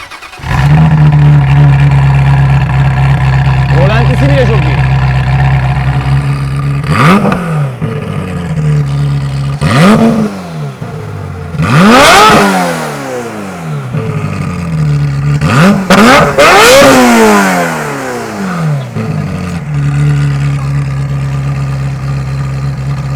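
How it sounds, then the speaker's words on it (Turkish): A Ferrari sports car engine idles with a deep rumble, then revs sharply several times, each rev climbing to a loud howl and falling back. "Gelelim sesine Ferrari sesiyle ünlü bir araç"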